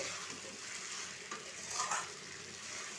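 Fried amudi fish is stirred into a simmering tomato and potato curry, a soft continuous sizzle with faint scraping from the spoon, quiet and close with no talking.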